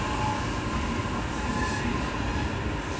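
A down train bound for Mito pulls away from a station platform, a steady, loud rail rumble with wheel and carriage noise filling the clip throughout, with no voices.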